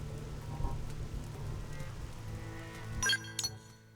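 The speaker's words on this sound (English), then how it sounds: "Well, it's raining, ironically." Rain pattering steadily in the video game Xenoblade Chronicles X, a continuous soft hiss with a low hum beneath, then a couple of bright glassy clinks near the end before it fades.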